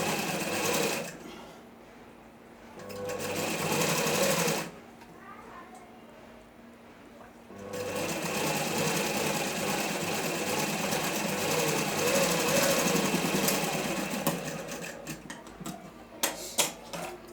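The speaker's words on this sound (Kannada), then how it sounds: "ಸ್ಟ್ರೇಟಾಗಿ ಒಂದು ಸ್ಟಿಚ್ ಹಾಕಬೇಕು." A sewing machine runs a straight seam in bursts: a fast, even mechanical whir and rattle that stops and starts with short pauses, close and loud, with faint talk in the breaks.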